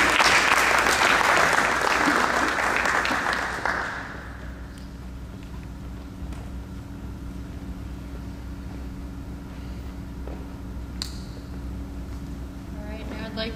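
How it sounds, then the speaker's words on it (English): Audience applause at an oil spill seminar in Slidell for the speaker Dr. Mishra, dense and fairly loud for about four seconds before dying away into quiet room tone with faint movement. "Another round of applause for Dr. Mishra."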